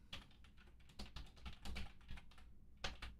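Quiet typing on a computer keyboard, a run of irregular key clicks over about three seconds, close and faint, with no voices.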